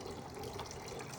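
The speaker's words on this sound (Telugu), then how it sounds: "చిన్నగా వాటర్ ఫౌంటైన్ లాగా ఉంటుంది." A small garden water fountain running in a backyard, a soft continuous trickle and splash heard alone for a brief moment.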